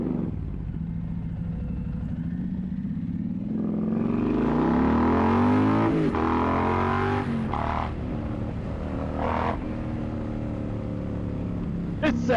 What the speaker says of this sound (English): Oh, this bike just fucking rips.